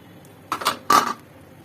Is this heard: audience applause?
no